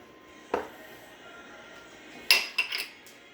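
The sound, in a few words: onion being put into a bowl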